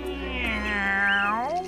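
A cat meows in one drawn-out, wavering cry, close and clear for almost two seconds, with no talk over it.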